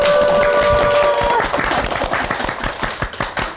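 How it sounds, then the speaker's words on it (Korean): Studio audience at a public radio broadcast clapping to welcome picture-book author Lee So-young: a brisk, dense burst of applause that fades slightly toward the end, with no voices. "자, 박수로 맞이해 주십시오."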